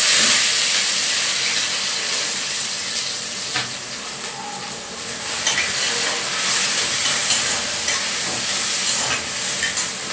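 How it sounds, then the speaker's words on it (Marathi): Garlic, onion and masala sautéing in hot oil, a loud continuous sizzle and hiss close up with faint stirring movements throughout. "आणि थोडंसं लसूण घेतला आहे आणि कांदा, सगळं एकदाच आता परतून घ्यायचं पटकन."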